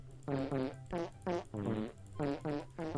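Farting Simulator's game fart effects repeat in quick tonal bursts, some doubled, forming a loose rhythmic beat that sounds loud and close with no voices.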